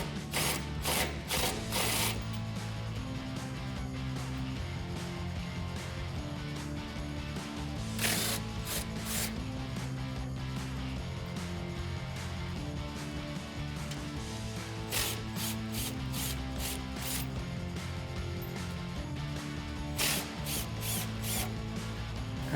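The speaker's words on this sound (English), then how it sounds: "we're going to need a 19mm socket to get these out." A ratchet wrench with a 19mm swivel socket backs out bolts on the rear bumper of a 2014-2021 Toyota Tundra, in repeated bursts of rapid clicking over a steady tonal background.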